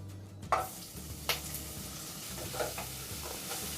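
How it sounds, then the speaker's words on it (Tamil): Sliced onion sizzles in hot oil in a pan, a steady close frying hiss broken by a few scrapes and clinks as it is stirred. "இப்போ வெங்காயம் லைட்டாக வதங்கட்டும்."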